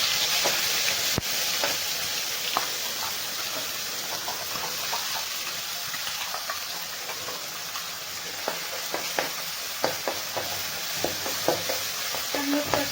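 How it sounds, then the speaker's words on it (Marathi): Loud continuous sizzling of ground spice paste with curry leaves frying in oil, with intermittent scraping and stirring clicks growing busier toward the end. "पूर्ण आपला मसाला चांगला भाजून घ्यायचा आहे आपल्याला"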